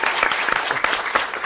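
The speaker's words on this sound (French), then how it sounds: "Applaudissements." A theatre audience bursts into dense, continuous clapping, loud and close, a short unbroken round of applause with no voices standing out.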